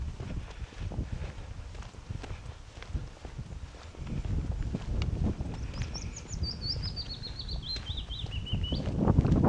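A small bird calls in a rapid, descending run of chirps on a hillside walk at Kahler Asten, heard a little way off over steady footsteps and outdoor rumble during the second half.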